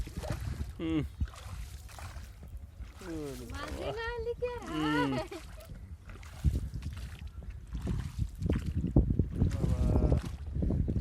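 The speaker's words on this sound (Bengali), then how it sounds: "আজ প্রথমবারের মতো দাদার নৌকায় উঠলাম" A fast ride in a grandfather's small boat on open water, with a steady low rumble and wind buffeting the microphone beneath near, continuous talking voices throughout.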